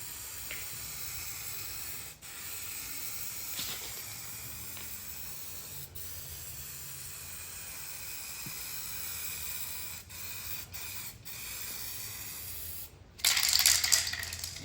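Aerosol spray paint can hissing out coats of paint in long continuous bursts with brief gaps, close and steady, ending in a louder, harsher burst.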